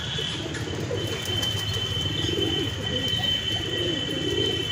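Pigeons cooing in a rooftop loft, soft low rolling coos repeating steadily at close range, with faint chirps and a constant background hum.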